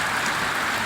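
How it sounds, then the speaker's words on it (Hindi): Heavy morning rain with hail falls in a steady, dense hiss with no pauses, loud and close, and no voices. "सुबह 6 बजे से ही बहुत ज़ोर से बारिश हो रही है"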